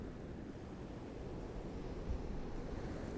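Stormy sea surf and gusting wind at a beach, a steady broadband roar of breaking waves with wind buffeting the microphone, continuous and fairly close, no voices.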